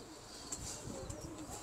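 Najja pigeons coo softly in a loft, low murmuring calls under a faint background hiss, with a few brief rustles close by.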